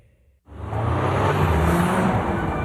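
An Audi performance car engine in a television advert, starting abruptly after a brief near-silent gap and settling into a loud, steady, deep rumble with a rising high whine, with no talking.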